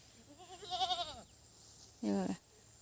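A goat bleats twice, first a wavering call, then after a pause a shorter, louder bleat, over quiet outdoor background.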